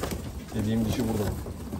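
Ornamental pigeons at a breeder's loft in Istanbul give a couple of low, soft coos close by, over a faint background hiss.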